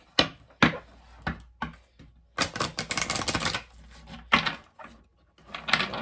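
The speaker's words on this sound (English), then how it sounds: "Let me shuffle these real quick." A deck of oracle cards is shuffled in several quick bursts of flicking and riffling, close up, with short pauses between rounds and no talking.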